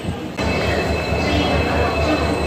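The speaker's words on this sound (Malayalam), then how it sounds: "ട്രെയിനിലാണ് നമ്മൾ പോകുന്നത്" Passenger train running from Palakkad toward Kozhikode, a steady loud rumble of wheels and carriage noise with a thin high whine, filling the clip after a quieter start.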